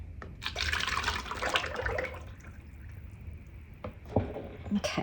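Liquid soap pours into a container during soapmaking, a close, thick sloshing stream for a couple of seconds that thins out, followed by a few clunks and light handling noises.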